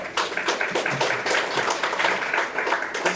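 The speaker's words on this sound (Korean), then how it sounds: "힘찬 박수로 축하해 주시기 바랍니다" Audience at an award ceremony clapping for a journalism prize winner, a steady run of dense applause at moderate level, with no speech over it.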